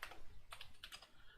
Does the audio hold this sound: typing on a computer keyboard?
yes